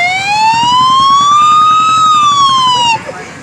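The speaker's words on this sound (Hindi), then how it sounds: "108 की आवाज," An Indian 108 emergency-service ambulance siren gives one loud, close wail that slowly rises and falls in pitch over about three seconds, then stops abruptly, leaving a brief quiet tail.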